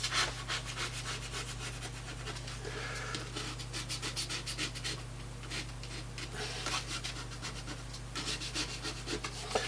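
Kitchen roll being rubbed firmly over a surface makes rapid, rhythmic scratchy strokes, close and steady against a low background hum, with no talking.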